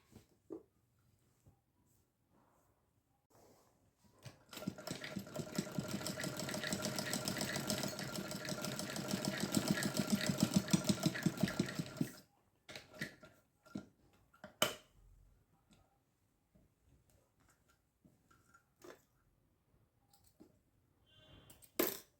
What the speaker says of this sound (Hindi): चलिए सिलाई करते हैं।